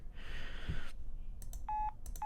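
Telephone beep used in an EDM track: a muffled noisy burst followed by short, clean repeated electronic tone beeps and clipped stutters, fairly quiet.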